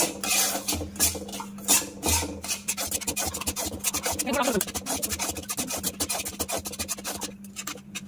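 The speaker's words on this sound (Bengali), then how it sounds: "দিয়ে একদম লো ফ্লেমে সুজিটা ভাজা করে নেব।" Semolina roasting in ghee over a low flame in a pan for watermelon halwa, stirred with a spoon in continuous rhythmic scraping and rasping strokes, close and fairly loud.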